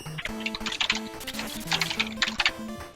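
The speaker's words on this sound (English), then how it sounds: "Stop typing." Rapid clicking of computer keyboard keys in uneven bursts, running under game music from a classic Mega Man relay race stream.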